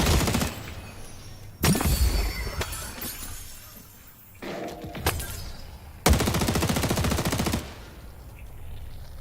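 Rapid machine gun bursts ring out in the hero shooter Deadlock, several sharp rattling volleys separated by short pauses, loud and close with glassy crackling impacts and no voices over them.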